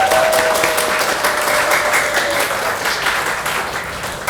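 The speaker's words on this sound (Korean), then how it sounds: "우리 환영의 박수," A church congregation at a Sunday worship service breaks into warm applause to welcome a returning couple, a steady, dense wash of many hands clapping that carries on without a break from start to finish.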